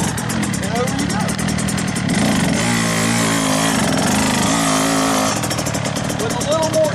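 Dirt bike engine revving as the rider gives throttle to climb over a log crossing, a loud buzzing two-stroke rise and fall with brief surges, close to the listener.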